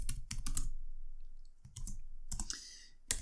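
Typing on a computer keyboard comes in close, crisp bursts of rapid key clicks, separated by short pauses with a brief final tap.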